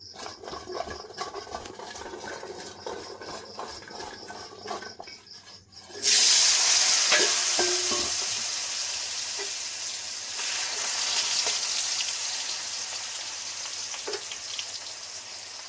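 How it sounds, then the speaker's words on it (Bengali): Potatoes dropped into hot refined oil in a kadai burst into a loud, steady sizzle and hiss that stays up for several seconds after a quieter start, with faint clinks. "সবজিগুলো একটা একটা করে লবণ লাগিয়ে ভেজে নেব। আগে আলু দিয়ে দিচ্ছি।"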